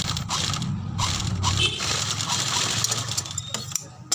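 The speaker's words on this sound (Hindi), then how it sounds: "ये दोस्तों बुकरम में लगानी है लब की सिलाई" A sewing machine runs at a steady whir while stitching buckram for a kurti neck, with a rattling, ratchety mechanical texture, a brief pause partway through and no voices.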